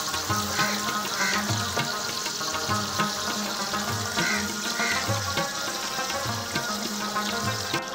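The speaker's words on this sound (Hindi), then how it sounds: "तकरीबन इसको 5 से 6 मिनट तक फ्राई करना है।" Chicken fries in oil in a karahi, with a steady, dense sizzle and crackle plus occasional bubbling pops that carry on without pause and without talk.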